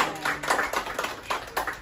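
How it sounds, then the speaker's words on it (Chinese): Audience applause at a team celebration rises in quick, uneven bursts of clapping from a nearby crowd, fading and swelling several times over a couple of seconds. "给我们掌声一下。"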